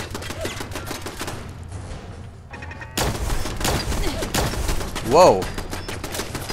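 Rapid bursts of automated turret gunfire in Fallout 4 at Vault 95, dense and continuous with a louder blast near the end, while a player talks over it.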